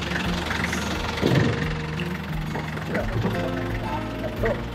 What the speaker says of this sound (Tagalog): Napakaganda na ng andar at takbo ng van na ito.